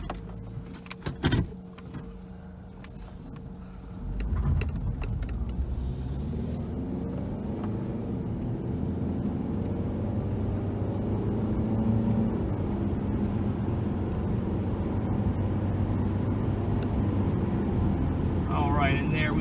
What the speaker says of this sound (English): now we're going to take this 2003 Nissan Altima out on a quick test drive.